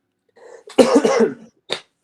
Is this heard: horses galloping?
no